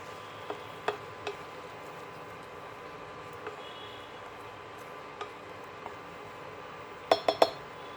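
A spoon mixing a water-based spice paste in a cooking pot, with a few scattered metallic clinks against the pot over a quiet background and a quick cluster of scrapes near the end.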